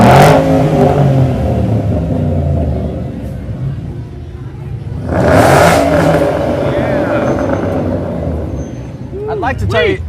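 A Ford Mustang engine revs loudly at a street parade, two strong surges of rumbling throttle rising over crowd chatter and voices nearby.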